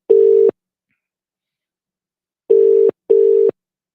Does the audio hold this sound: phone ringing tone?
yes